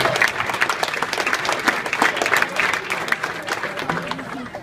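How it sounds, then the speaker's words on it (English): A banquet crowd at a boys' travel basketball event gives sustained applause, a dense, even wash of many hands clapping at close range that continues throughout. "So give them a round of applause because they've helped me a lot."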